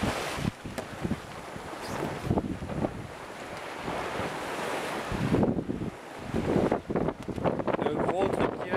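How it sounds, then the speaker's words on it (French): Bow wave of a small sailboat, a Muscadet, at sea, hissing and sloshing close by in uneven surges, mixed with wind rumble on the microphone. "la petite vague d'étrave là"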